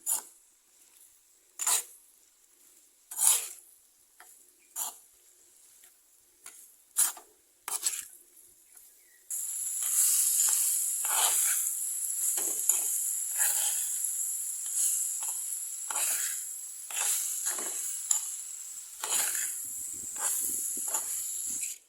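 Bitter gourd with curry leaves and salt sautéing in a pan: at first, scattered sharp scrapes and crackles, then a steady bright sizzle that carries on with occasional stirring clicks.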